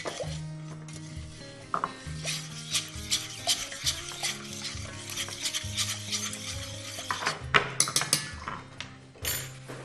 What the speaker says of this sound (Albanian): Ja, po e përzije me lugë të vogël.